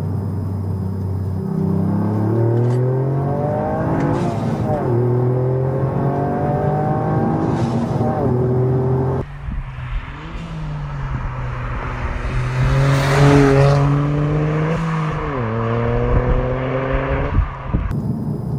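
Litchfield-tuned GR Yaris rally homologation car accelerating out of a village, engine revving up through several gears with automatic throttle blips on downshifts, loud and close from inside the cabin.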